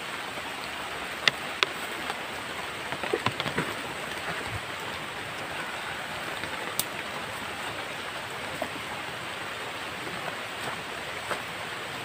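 Steady rain hisses evenly throughout in a video game, with occasional faint drips and taps over the constant wash.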